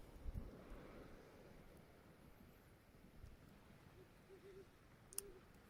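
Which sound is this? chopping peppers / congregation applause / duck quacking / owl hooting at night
owl hooting at night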